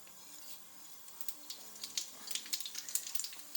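Cumin seeds crackling in hot oil on a gas stove, faint scattered pops and sizzles building into a quicker, denser patter over a soft background hiss.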